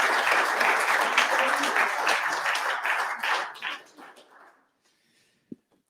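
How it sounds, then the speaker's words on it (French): Audience applause fills a closing ceremony hall, a dense steady clapping that thins out and fades to near silence, followed by a single faint knock. "Je crois que nous pouvons les applaudir."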